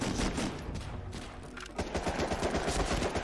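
Dense gunfire from a World War II shooter, Medal of Honor: Rising Sun, played in online multiplayer on PS2: continuous loud overlapping bursts and rapid shots run throughout without a break.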